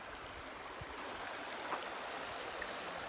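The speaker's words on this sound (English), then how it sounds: "Down here on beautiful Mineral Creek" Mineral Creek near Silverton, Colorado, a clear mountain stream, flows with a steady, even rushing hiss throughout, moderately close and unbroken, with no voices.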